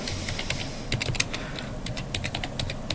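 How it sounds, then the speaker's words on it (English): Rapid tapping on a computer keyboard as a Linux install command is typed, irregular bursts of light key clicks over a low background hum. "type the sudo apt get install"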